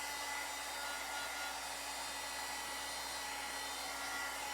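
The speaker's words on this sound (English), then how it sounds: "Get my heat gun or blow this really quick." A heat gun blows steadily on a wooden scarecrow fall craft, giving a constant, even airflow whoosh with a faint motor hum, close and alone for the whole stretch.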